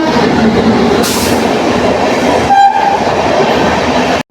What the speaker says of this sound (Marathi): इकडून ट्रेन येते। मेल येते मेल।